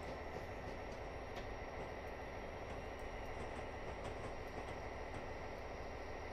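Freight train rolling along track in a train simulator game on Cajon Pass, a steady continuous rumble with faint rhythmic clicks, moderately quiet and alone without talk.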